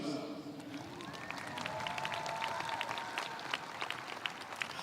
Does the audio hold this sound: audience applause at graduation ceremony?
yes